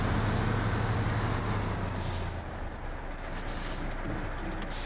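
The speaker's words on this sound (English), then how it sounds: "the brakes are just absolutely incredible" Air brakes on a 2020 Kenworth W990 big rig in SnowRunner give a loud, steady hiss over a low engine rumble that dips partway through, then carries on more quietly.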